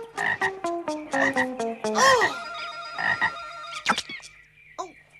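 A cartoon frog croaks in a run of loud, bouncy, pitch-sliding calls, close up and alone, with a few quick squeaks near the end.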